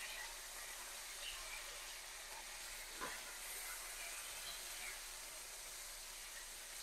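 Marinated chicken fries in a pan for a spicy garlic fried chicken dish, giving a constant, even sizzling hiss throughout with one faint clink near the middle.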